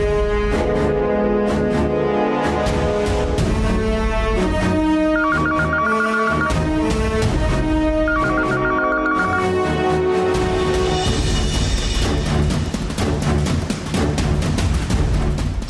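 Landline telephone ringing on and on without anyone picking up, repeated electronic ring bursts sounding over loud background music.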